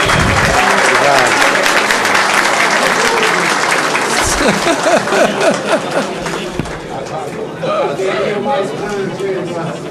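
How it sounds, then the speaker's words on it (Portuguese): Loud applause for the rapporteur during a Brazilian joint congressional committee session, a dense burst that tapers over ten seconds while voices chatter underneath. "peço uma salva de palmas para o nobre relator"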